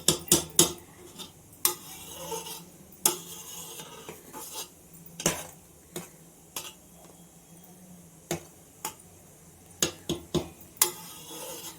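Homemade coconut milk simmers in a pot while a spoon stirs it, scraping and knocking against the metal in irregular clinks over a low bubbling hiss.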